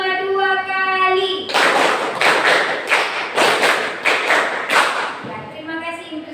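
In a classroom, a group of children claps together in a quick patterned sequence of sharp, loud bursts, set between a teacher's spoken counting cues.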